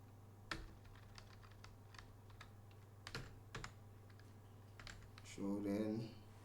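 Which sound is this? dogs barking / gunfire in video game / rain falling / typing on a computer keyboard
typing on a computer keyboard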